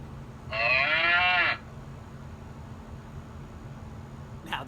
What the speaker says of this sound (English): if you enter it, you're going to hear the cows mooing